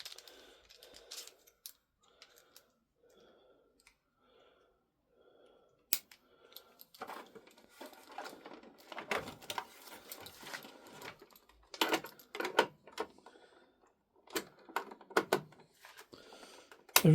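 Crosshead screws are undone on a TOMCAT safety lantern alarm, with small clicks and the squeak of a screwdriver turning, then sharper clattering and handling noises close by, and no talking.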